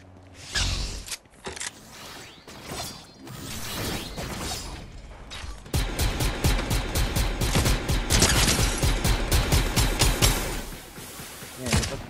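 Rapid bursts of gunfire in the video game Fortnite, scattered shots at first and then a dense, loud run of sharp, evenly spaced reports with mechanical clatter, sustained to the end.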